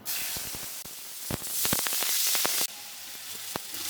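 Ground tomato hits hot mustard oil already seasoned with cardamom, dried chilli, bay leaf and cumin, bursting into a loud, close sizzle with sharp spattering pops, then easing to a steadier fry.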